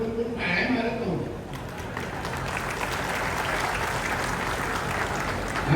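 An audience at a jetty groundbreaking ceremony bursts into sustained applause, a dense clapping wash that begins after a brief voice and carries steadily to the end.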